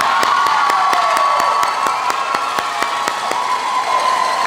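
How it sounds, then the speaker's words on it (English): Loud, dense applause and cheering from a school convocation crowd honoring a principal, with sharp rhythmic claps cutting through a steady roar of voices and whoops close by. "which deserves a round of applause."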